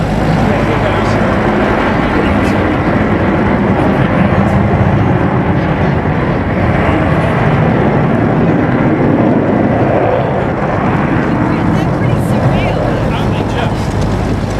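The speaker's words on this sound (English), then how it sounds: "when they turn on the taps on those 4 big Olympus engines, I think you'll probably hear" A constant, loud roar of an Avro Vulcan's four Olympus jet engines, broad and rumbling without pause, with voices talking faintly underneath.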